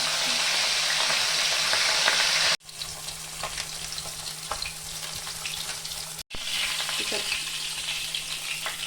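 Fish, papda, frying in hot oil: loud, continuous sizzle and crackle that cuts out sharply twice, as if the lid or heat is interrupted, then resumes at the same dense level.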